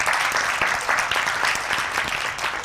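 Steady applause from a church congregation, dense and continuous clapping throughout with no pauses.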